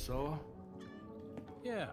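A cat meows twice in a video game trailer, the cries clear and tonal with falling pitch, one at the start and another near the end, with faint talk in the background.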